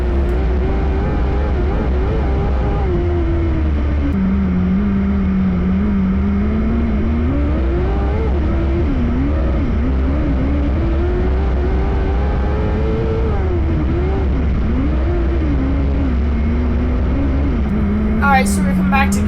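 Race car engine roaring through laps of a night oval-track race at Clyde Martin Memorial Speedway, a loud sustained drone whose pitch rises and falls with the throttle and never lets up.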